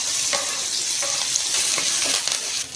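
Chopped garlic, green chillies and curry leaves sizzle steadily in hot oil in a pan, a close, continuous frying hiss broken by soft stirring scrapes, with no talk.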